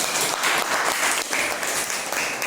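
Applause from a classroom of students, a dense, steady patter of clapping hands that fills the room at close range for a couple of seconds without talk.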